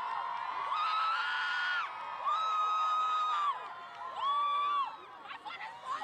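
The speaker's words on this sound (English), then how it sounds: "we're seeing everybody like really excited right now, like very happy, screaming, cheering" A crowd of many voices shrieks and cheers excitedly during a total solar eclipse, with high, sustained whoops rising over a dense, continuous roar of chatter.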